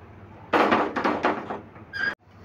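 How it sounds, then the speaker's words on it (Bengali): A metal wok scrapes and clatters onto a gas stove, a series of close, rattling knocks followed by a brief ringing clank. "আর কড়াইটাও বসিয়ে দিলাম।"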